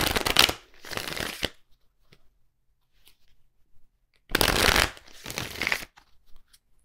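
Tarot or oracle cards are shuffled in two quick riffling bursts, close and crisp, separated by a few seconds of near silence.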